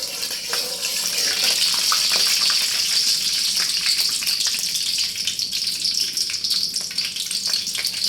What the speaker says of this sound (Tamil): பாருங்க வந்து தாளிச்சிடலாம்.